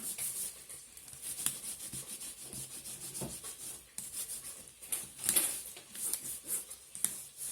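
A craft roller passed over a printing surface as a substitute for a gel press plate, giving a soft, close rubbing sound in uneven strokes over about seven seconds, with no talking.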